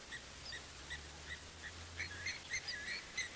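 Cape glossy starlings call at sunrise on a safari drive, a scatter of short, bright chirps and whistles repeating from mid-distance over a low rumbling engine hum.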